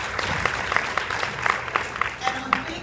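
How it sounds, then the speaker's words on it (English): Audience applause at a conference keynote in a hotel ballroom, a steady wash of clapping with scattered sharper claps, moderately loud and without speech. "Please, round of applause for you."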